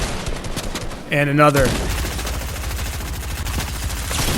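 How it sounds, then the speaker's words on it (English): Rapid bursts of gunfire ring out in the video game Fortnite as a Batman character shoots, loud and repeated, with a voice briefly talking over them. "Sloppy shooting by the Batman."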